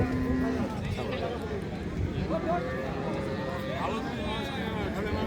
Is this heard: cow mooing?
yes